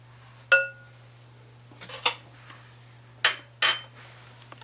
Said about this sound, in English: Just kind of stir that around.